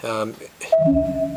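An email notification chime plays beside a Korg M3 Xpanded synthesizer, a brief clear sustained tone following a moment of close speech.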